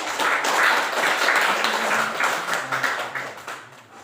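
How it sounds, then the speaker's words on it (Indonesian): A class audience claps after a student group's presentation, a fairly loud, dense burst of applause that gradually thins out and fades toward the end. "Terima kasih kelompok 2. Tepuk tangan."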